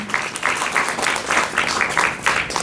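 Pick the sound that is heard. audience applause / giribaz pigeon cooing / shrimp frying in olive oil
audience applause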